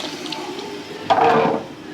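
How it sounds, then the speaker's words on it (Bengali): Water splashes into a cooking pot of fish curry in one brief pour lasting under half a second, set against a quiet kitchen background. "এখন এই যে ঝোলের পানি দিয়ে দিলাম"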